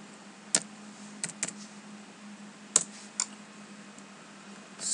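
A few sharp key clicks on a computer keyboard as a number is typed in, spaced out in small bursts over a steady faint hum, with no talking.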